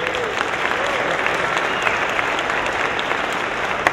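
A big round of applause from a comic con panel audience in Puerto Rico, dense and loud, a steady roar of many hands clapping without pause, with faint cheers mixed in.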